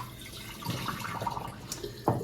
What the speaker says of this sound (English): We're going to pour out all the water